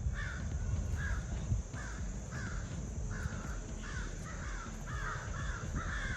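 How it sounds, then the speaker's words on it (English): Several crows caw repeatedly in short bursts, fairly close, over a steady background hum of outdoor noise. "those crows are loud today"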